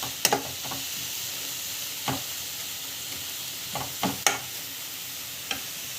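Ingredients for a Murugan pooja dish sauté in a pan, a steady hiss of frying broken by several sharp stirring scrapes and clinks at irregular intervals, close and with no voices.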